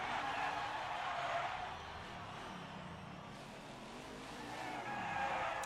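A NASCAR stock car spinning out in the NASCAR 21: Ignition video game, with loud tire squeal and skidding over engine noise, dipping briefly and then swelling again as the car slides.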